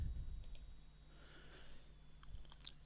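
A computer mouse gives a single soft right-click, faint and close, over a quiet background hum, with a couple of other light clicks nearby.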